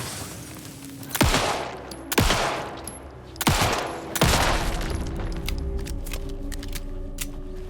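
Gunshots ring out in Alan Wake 2, four loud sharp reports spaced about a second apart, each leaving a ringing tail over a low steady background.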